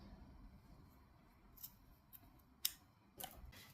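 Scissors snipping off crochet yarn ends after a headband is finished, giving a few faint, sharp snips spaced across a quiet stretch, close but soft.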